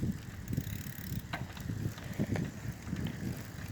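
A bicycle ridden with a friend, faint mechanical rattling and soft ticking over light wind noise, with a few quick clicks along the way.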